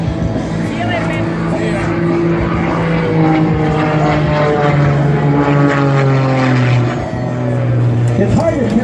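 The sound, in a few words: Extra 300 aerobatic propeller airplane flying at air show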